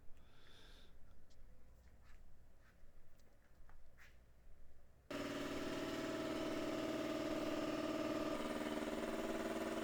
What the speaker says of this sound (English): Everything's driven with the compressor